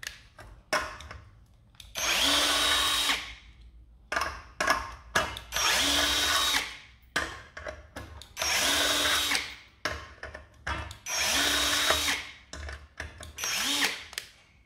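A Chinese domestic-market cordless drill driver drives screws in several loud, sustained bursts of a few seconds each, separated by short pauses and small clicks, close up with no talk.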